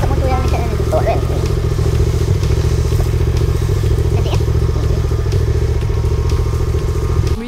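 A motorcycle engine runs close by with a steady, loud rumble and some clatter throughout, constant and unbroken.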